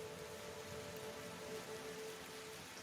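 Steady rain ambience, a continuous soft hiss of falling rain that stays even and moderately quiet throughout, with no voices.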